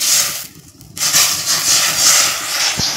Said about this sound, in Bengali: এখন এখান থেকে আমি ডিমের মিশ্রণ কড়াতে দিয়ে দেব